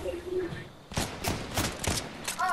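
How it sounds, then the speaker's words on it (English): Gunfire in the video game Fortnite, a rapid burst of several loud cracks in close succession after a quieter start with small game sounds. "Oh, people shooting me."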